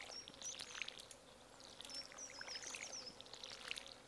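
Crops are watered with a watering can in the farming game Stardew Valley, with short splashing pours repeating among chirping summer insect and bird ambience, quiet and close.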